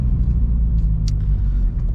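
A Subaru BRZ cruising on the road, its engine giving a steady low rumble with constant road noise from inside the cabin and a couple of faint brief clicks.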